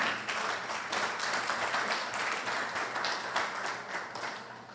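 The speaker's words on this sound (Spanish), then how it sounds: "Yo de usted ya le había dado un aplauso al Señor." A church congregation applauding, many hands clapping in a sustained, slightly uneven roar that fills the room from start to finish.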